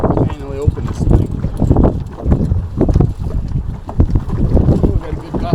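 A strong gust of high wind sweeps across open water during a sea anchor test, a loud, continuous roar buffeting the microphone with rising and falling surges and splashy water noise, while a voice speaks over it.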